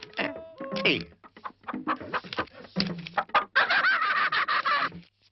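Several chickens cluck and squawk close by in quick, uneven bursts, with a few drawn-out calls among them.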